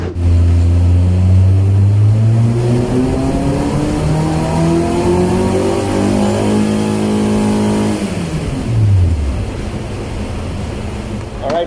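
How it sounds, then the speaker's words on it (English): A Honda Civic FD with a 1.8L engine, its ECU freshly reflashed, revs on a dyno in one long climb to 6500 RPM, then the loud, close engine tone falls back toward idle. "it all revs all the way to 6500 now"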